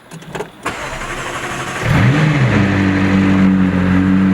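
A 2016 McLaren 675LT Spider fires up after a brief starter whir, settling into a loud, steady high idle with strong low rumble, close up and alone.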